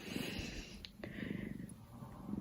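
A female cat purrs in a low, rough rhythmic rumble close to the microphone, with a brief rustle partway through.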